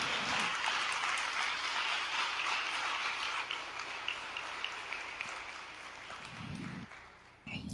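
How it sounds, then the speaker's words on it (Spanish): A church congregation applauds at a Sunday service, a dense, sustained wash of clapping that gradually thins out, with brief low voices near the start and end. "Den un gran aplauso al Señor."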